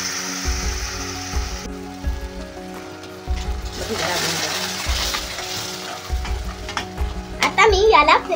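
Walnut halwa with milk stirred in a pan, with a spoon scraping and clattering in repeated strokes over a bubbling sizzle, louder clinks toward the end.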